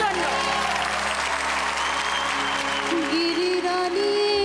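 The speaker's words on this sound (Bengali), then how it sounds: "একটা জোরে হাততালি হবে সম্পাদির জন্য" An audience on a Zee Bangla TV entertainment show applauds in a loud, dense, sustained wave. It runs steadily through the whole stretch, with a voice and some musical tones layered over it.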